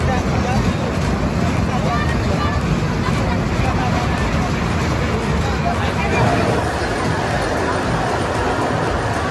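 Dense crowd hubbub at the busy Malda Expo fair beside a dragon train ride, a loud steady wash of many indistinct voices mixed with wind noise, continuous throughout.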